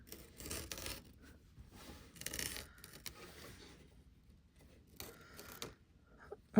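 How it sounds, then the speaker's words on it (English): Seam ripper picking and cutting away stabilizer fabric on a sewing project, quiet close scratchy snips and rasping scrapes in short irregular bursts, with a sharper click at the very end. "I'm going to get in here underneath and cut away the stabilizer."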